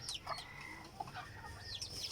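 Soft clucking of decoy jungle fowl close by, with short chirpy calls and murmurs over a faint background hiss.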